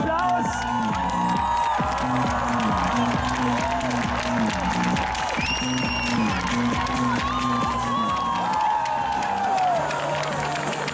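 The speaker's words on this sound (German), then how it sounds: "Die braucht jetzt euren Applaus." A big outdoor crowd at a Red Bull Flugtag cheers, whoops and applauds without letup, a dense loud roar that holds for the whole stretch, with music thumping underneath.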